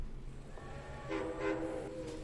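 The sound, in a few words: train departing in the video game Men of War: Assault Squad 2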